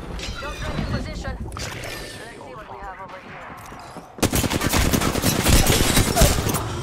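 Rapid bursts of video game gunfire crackle loudly, with a dense automatic volley in the latter half, while players talk over the shooting.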